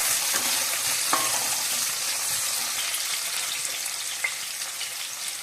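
Curry leaves dropped into hot oil sizzle loudly and steadily up close, with a few sharp crackles and pops and no talk.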